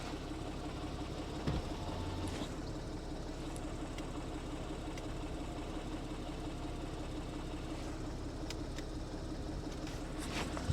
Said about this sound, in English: I'll just show you that rear spoiler going up and down.